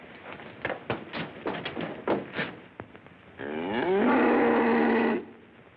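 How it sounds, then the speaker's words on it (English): A cow lying in her stall gives a run of short, close groaning moans, then one loud, sustained moo that holds for over a second before cutting off. "She's lying in her stall, moaning and mooing."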